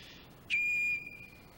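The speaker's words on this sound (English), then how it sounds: "Now, I was working on my own whistle" A harbor master's whistle gives one short, clear, steady tone that stops abruptly and leaves a faint ringing tail in a quiet setting.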